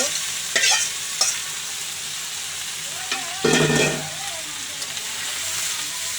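Taro pieces stir-fried in a pan of cooked-down spice paste give a steady close sizzle, with a few sharp spatula scrapes and knocks against the pan.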